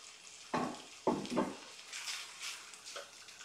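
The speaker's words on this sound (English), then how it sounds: "And then you're just going to brown the beef." Beef sizzling softly as it browns in butter in a frying pan, with a few brief scrapes or clatters near the start and a low steady hiss continuing afterward.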